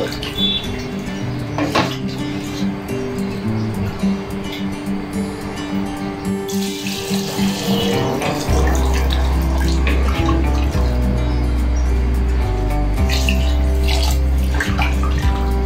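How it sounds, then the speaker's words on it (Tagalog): Water is poured into a pot of sautéed Ilocano beef papaitan. After some clinking of pots and utensils, a strong, steady gush of water flows into the pot and continues until the end. "Lagyan na natin ng tubig."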